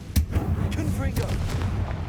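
Confringo, a blasting spell from the video game Hogwarts Legacy, goes off in a sharp boom followed by rumbling, crackling debris over about two seconds, with a voice speaking at the same time.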